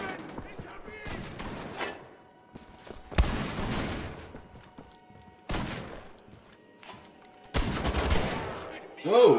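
Shotgun fire in the video game Wolfenstein: The Old Blood: three loud, broad blasts arrive roughly two seconds apart, each with a short decaying tail, preceded by quicker, lighter shots and clicks over a low in-game background.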